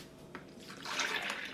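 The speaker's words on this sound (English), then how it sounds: "So, I'm going to put the milk in here first." Milk pours into a mixing bowl to make a batter with sugar, flour, baking powder and salt, a quiet stream that starts partway through and runs on as a close, splashy trickle.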